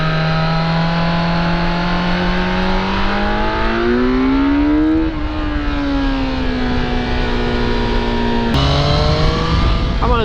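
A Triumph Street Triple RS motorcycle engine drones loudly and steadily while being ridden on twisty roads, its pitch rising and falling with throttle and a clear gear change near the end.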